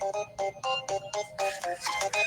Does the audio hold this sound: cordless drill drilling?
no